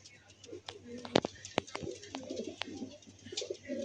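Pigeons being handled and let out at a pigeon loft: soft cooing and sharp wing flaps and knocks, with someone talking throughout close by.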